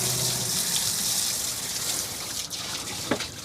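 Fresh water running steadily from a hose or tap as boat components and pumps are rinsed, a continuous close splashing gush with a brief louder spatter near the end.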